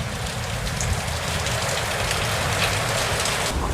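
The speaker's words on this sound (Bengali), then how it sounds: "আর বৃষ্টি পড়তেছে" Steady rain pours down on a dark morning, a dense, loud, even hiss of drops hitting surfaces that carries on without pause.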